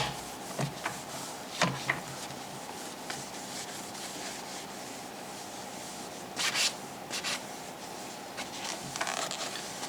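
Cloth or brush rubbing along the clamp track of a badminton stringing machine, giving soft scraping strokes with a few louder scrubbing bursts, faint and close.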